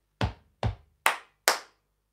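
Four sharp body-percussion hits in an even rhythm, two low foot stomps followed by two bright hand claps, close and crisp with short decays.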